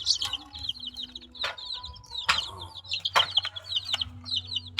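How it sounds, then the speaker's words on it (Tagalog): Native chicken chicks peep in rapid high chirps throughout, with a few louder clucks and sharp calls breaking in, close and lively. "Ito ang mga sisiw ni Tita Ri."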